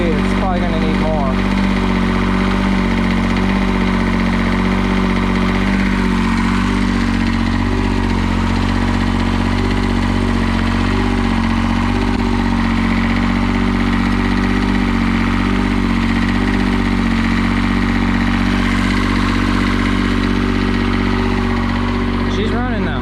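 A New Holland LS125 skid steer's engine runs steadily at idle with a loud, continuous mid-pitched drone and a few faint mechanical ticks, with no clear revving throughout.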